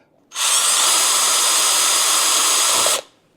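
A power drill bores a pilot hole into the foam of a motorcycle backrest on a Honda VT750, one loud steady whine lasting about two and a half seconds, close up, then stopping abruptly.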